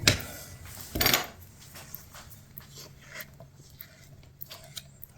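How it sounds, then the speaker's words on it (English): Silicone and cornstarch being stirred together by hand for a homemade rubber moulding mould, with scraping and clinking from a container and utensil, two louder strokes near the start, then quieter intermittent scraping, close and with no talking. "Give that a little mix"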